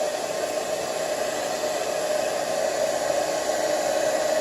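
A hair dryer blows steadily while drying a full beard, a constant close whooshing drone with an even, unbroken tone and no talking.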